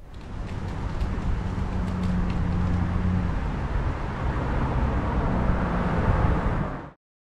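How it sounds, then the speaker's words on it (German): A car races up from behind toward a red light on a Hamburg street, a steady rising roar of engine and tyre noise with low rumble heard from a stopped bicycle, building slightly before cutting off. "Da kommt ein Auto von hinten angerast."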